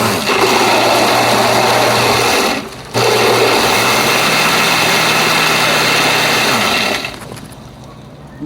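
A countertop blender whirs steadily as it mixes a Jose Cuervo margarita, a loud continuous motor drone that dips briefly near the third second, then resumes before winding down toward the end.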